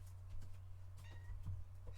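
A house cat meows a few times in a kitchen where food is being mixed, short soft calls over a steady low electrical hum, with no talking.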